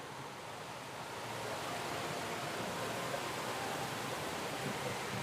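Water rushes steadily from a fountain water feature at Caesars on the Las Vegas Strip, heard outdoors as a broad, continuous splashing roar that swells slightly in the first seconds and then holds even.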